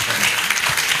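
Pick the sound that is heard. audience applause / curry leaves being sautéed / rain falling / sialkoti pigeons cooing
audience applause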